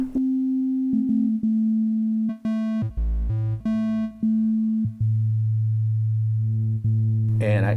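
Roland System-8 synthesizer sub oscillator plays a sustained pure sine tone, with the pitch stepping between a few held notes and brief clicks as settings change, ending in a short burst of brighter sound.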